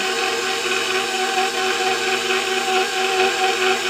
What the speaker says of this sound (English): I find that it's much easier to do it with a mixer